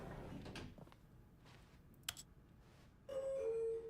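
An elevator bell chimes in The Stanley Parable video game, a sustained two-tone ding near the end following a quiet stretch with a few soft clicks.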